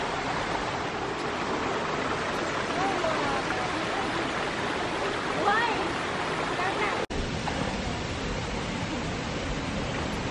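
Klong Plu Waterfall on Koh Chang, Thailand, roars as a loud, continuous rush of falling water, close by, with a short click partway through.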